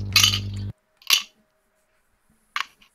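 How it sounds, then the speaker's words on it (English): Dice rattle and clatter on a table at a tabletop role-playing session in a few short, bright bursts separated by silence, with a low hum under the first burst. "Dice, stop giving me away that I'm rolling"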